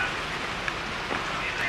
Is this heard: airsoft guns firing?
no